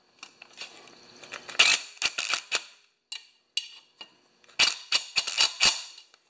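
A small hand tightening tool works a fitting on a pressure washer's fuel line: close, sharp metallic clicks and ratcheting snaps in two clustered bursts separated by a quiet gap.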